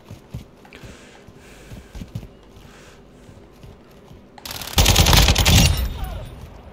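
Video game gunfire erupts after a stretch of quieter gameplay noise and footsteps, a loud, dense burst of rapid shots lasting over a second, close and dominant with no talking.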